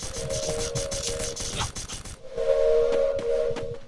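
A train whistle sounds in a shooter video game, heard as a sustained tonal blast over a busy mix of gunfire and game effects, then again more loudly and clearly in the last seconds.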